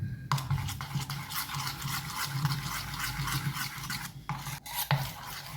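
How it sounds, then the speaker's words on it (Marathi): A spoon scrapes and stirs a bubbly batter mixed with salt and baking soda in a bowl, a steady rhythmic rasping with brief pauses, close and fairly quiet. "आता आपण हा पेस्ट मिक्स करून घेऊया।"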